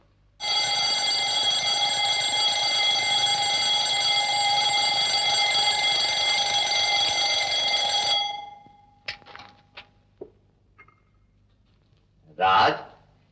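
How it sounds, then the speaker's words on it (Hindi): An alarm clock in an Indian home rings loudly and continuously for several seconds, then cuts off, leaving scattered small sounds and a brief burst of voice near the end. "कब से अलार्म चिल्ला रहा है?"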